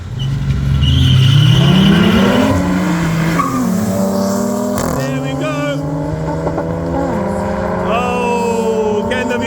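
A Polo GTI and a VR6 car drag racing: loud engines rev and climb through gear changes with tire squeal, close and dominant, with commentary over the top.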